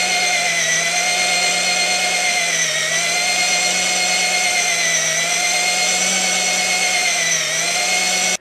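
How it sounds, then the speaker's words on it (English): A vintage Black & Decker electric drill runs steadily while boring engine cylinders, its loud, continuous whine holding a constant pitch with slight periodic dips as the hone catches high spots, then cutting off abruptly at the end. "you'll actually feel the drill kind of pulse as it's hitting those high spots"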